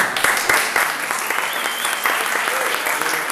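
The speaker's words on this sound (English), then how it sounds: "let's hear a round of applause" An audience claps a round of applause at a community art-board gathering, a dense steady patter of many hands filling the room, close and continuous without letting up.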